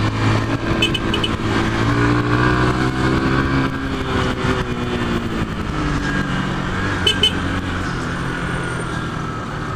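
A truck drives along a city road in rain amid traffic, its engine a continuous loud rumble with shifting pitch as it moves, surrounded by other vehicle noise.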